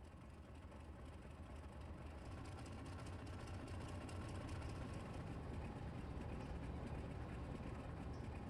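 Locomotive engine idling in the railway game Railroader, a steady low rumbling drone with a faint mechanical buzz, constant and unbroken, with no voices.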